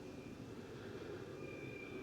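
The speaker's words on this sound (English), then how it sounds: "That's a commercial jet." A commercial jet passes overhead at a distance, giving a steady broadband roar with a faint high whine. It stays even and continuous throughout, with no talk.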